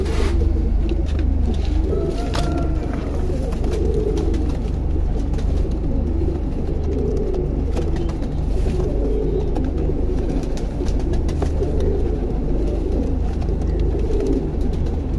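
Golden pigeons coo steadily in a repeated soft rhythm, several birds close together, over a constant low background rumble with no talking.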